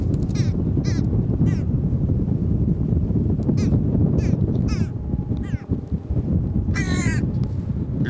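A trained crow caws repeatedly near its handler in coastal Charente countryside, loud harsh calls in short bursts over a constant rumbling background noise, with no talking.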